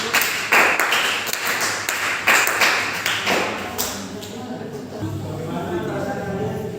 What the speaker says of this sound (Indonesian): Kasih tepuk tangan nomor 1.